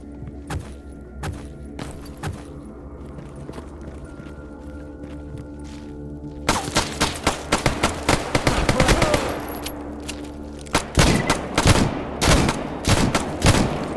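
Rapid bursts of automatic gunfire and single shots ring out in the STALKER GAMMA shooter game, quieter at first and then loud, dense volleys over a low ambient hum.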